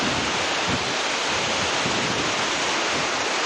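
Clear water of O'Brien Creek in Alaska flowing past a campsite, a steady loud broadband rush that fills the whole stretch without a break and with no voices.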